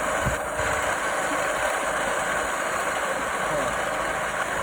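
A pump engine flushing an Abyssinian well drones continuously at close range, a constant mechanical hum with no pauses or changes in pitch.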